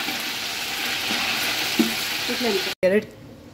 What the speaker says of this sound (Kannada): ಸೊ ಆನಿಯನ್ ಎಲ್ಲ ಹಾಕ್ಕೊಂಡಿದ್ದೀನಿ. ಈಗ ಫ್ರೈ ಆಗಕ್ಕೆ ಬಿಡಾಕಿದೆ.